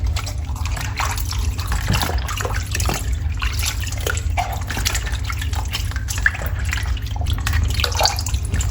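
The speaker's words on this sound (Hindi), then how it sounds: "अब इनको नमक से धो लेंगे" Bitter gourds being washed by hand in salted water in a kitchen, with steady dripping, trickling and splashing close by. There is no talk over it.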